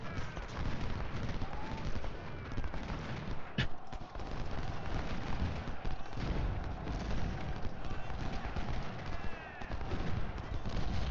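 Musket and artillery fire in the Civil War strategy game Ultimate General Civil War, with a dense, continuous battle roar of crackling volleys and booming shots and one sharp close report standing out.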